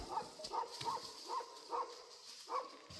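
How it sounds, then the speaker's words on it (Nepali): A dog barks on a distant hillside slope in a mountain village, about seven faint, evenly spaced barks echoing from far away with no talking over them. "पारी पाखामा कुकुर भुकिरहेको"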